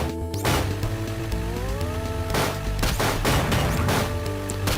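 Game gunfire and impact crashes from Nicktoons: Attack of the Toybots play over a steady musical soundtrack, with several loud bursts of shooting spread across the clip.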